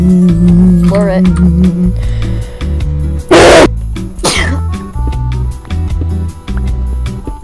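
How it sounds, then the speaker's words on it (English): Two sharp, loud bursts in quick succession, one sneeze after another, break through a Minecraft speedrun match in which people keep talking and game sounds play throughout. "Now that's what you sound like when you sneeze."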